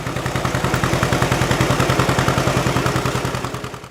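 A John Deere Model B tractor's two-cylinder engine runs steadily, giving a loud, even stream of rapid popping beats close by.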